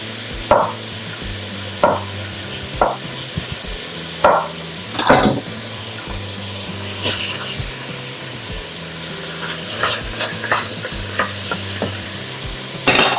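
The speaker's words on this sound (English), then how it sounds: "start sauteing your heartier vegetables" One onion and three large carrots sauté in a pot for a coconut, ginger and turmeric minestrone: loud, close sizzling broken by repeated rhythmic scrapes and knocks of a stirring spoon.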